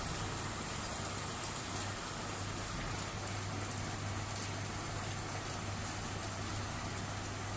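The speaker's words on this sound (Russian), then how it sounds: "Дождь не переставая, все льет и льет." Heavy rain pours steadily in Bavaria after hail, a dense, unbroken hiss of downpour with a faint low rumble of traffic underneath.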